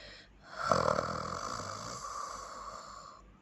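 A man snores loudly with a long, rumbling breath that slowly fades, heard close and alone.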